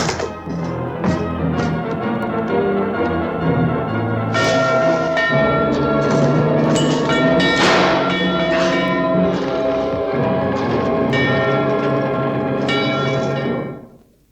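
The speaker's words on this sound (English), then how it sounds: "Ring the alarm bell!" Alarm bells ring out loudly and continuously with layered clanging tones, a steady pealing that lasts about fourteen seconds before cutting off.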